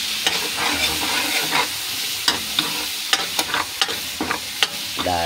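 Garlic and onion sautéing in a pan for pancit gisado, with a steady close sizzle and frequent scraping stirs of a utensil against the pan, no voices.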